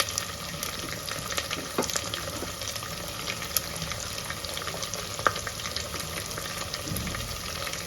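Ginger garlic paste and curry leaves fry in ghee with a steady, close sizzle and crackle, broken by scattered clicks and light scrapes from stirring.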